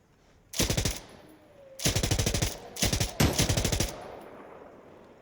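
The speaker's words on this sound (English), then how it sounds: "it's a good rate of fire here. Obviously, you're firing a pretty high caliber round, too." A high-caliber automatic rifle fires in Insurgency Sandstorm, four loud close bursts of rapid, evenly spaced shots separated by brief pauses.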